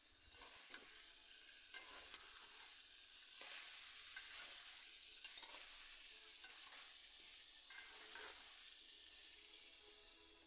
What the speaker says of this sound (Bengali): এবার আলু ফুলকপির সাথে মটর ডালগুলো মিশিয়ে নিচ্ছি।